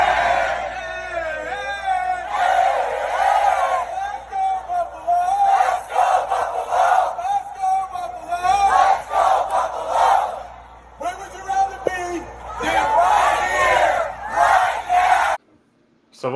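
A large crowd at a Los Angeles event roars and chants in loud, surging waves while a voice leads them, then the sound cuts off abruptly near the end.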